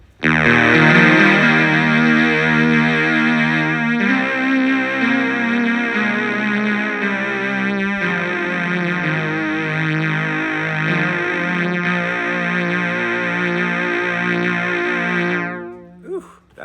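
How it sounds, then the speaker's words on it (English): A Casio CZ-1000 synthesizer plays a strings patch, sustaining loud chords that change about every four seconds, with no talk over it, before the sound cuts off near the end. "Oh, beautiful strings."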